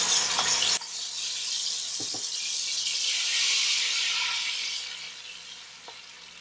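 Tomato puree drops into hot oil in a pan and sizzles loudly from the first second, hissing steadily for several seconds before easing off, with a few light clinks of a utensil against the pan.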